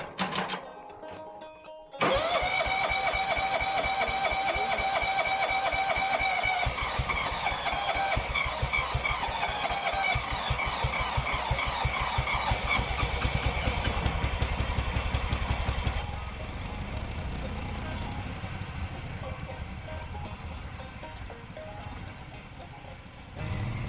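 A 1986 John Deere 165 lawn tractor engine turns over on a weak battery and catches, then runs steadily and loudly up close with a rough, rattling idle, its pitch dropping slightly as it settles. No one speaks.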